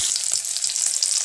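Chopped garlic fries in oil in a wok, giving a steady, close sizzling hiss with faint stirring scrapes throughout, and no voices.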